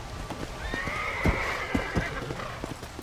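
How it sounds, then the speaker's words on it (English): A horse whinnies in a long, wavering cry in the video game Red Dead Redemption: Undead Nightmare, with a few sharp hoof-like thumps and clops scattered through it. "Did a horse die and turn zombie?"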